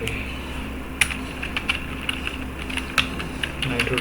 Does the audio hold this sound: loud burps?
no